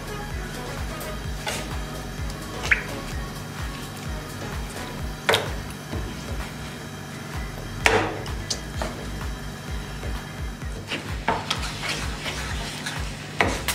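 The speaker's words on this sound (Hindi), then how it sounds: "अब चूल्हा ऑन करेंगे और 8 से 10 मिनट के लिए मीडियम फ्लेम पर इसे पकाएंगे" Tamarind in a glass of water cooks in a pot over a medium flame: a steady low simmering hum, broken by occasional sharp scrapes and knocks of a spoon against the pan.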